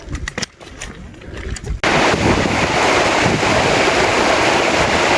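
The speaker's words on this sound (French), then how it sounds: "Et on a du vent fort." Strong, cold wind blows across a snowy mountain pass, the col du Bonhomme in the Mont Blanc area, with a few faint scuffs before loud, steady gusts buffet the microphone for most of the clip.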